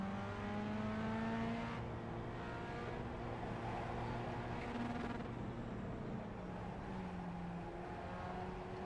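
A race car engine in the iRacing sim, during a Solstice Challenge race, drones loudly and steadily at high revs near the rev limiter, its pitch wavering slightly and never dropping off.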